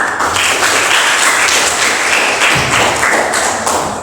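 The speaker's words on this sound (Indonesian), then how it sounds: "Bagus, kita kasih aplaus dulu." A classroom full of students claps together in loud, dense applause that carries on unbroken for several seconds.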